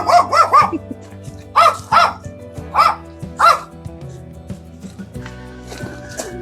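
Dogs at an agricultural theme park bark loud and close in short bursts of two or three yaps, pausing between rounds, while a low background hum continues underneath.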